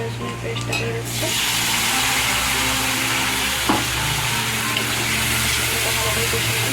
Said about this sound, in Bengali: পেঁয়াজটা ভাজা হয়ে গেছে, এবার আদা রসুনের পেস্টটা দিয়ে দিচ্ছে।